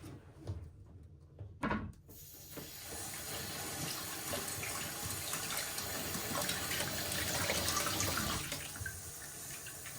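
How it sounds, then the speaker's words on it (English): Water rushes steadily through a toilet fill valve into a plastic container held over it, after a short clunk, a close continuous hiss and splash that swells slightly toward the end. "we're going to slowly turn the water back on just so that we can flush any debris out"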